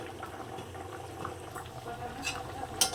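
Bengali tangra fish curry with yam (mete alu) and potatoes simmering in a pot, a steady low bubbling boil with faint liquid churning and a soft clink near the end, no talking over it.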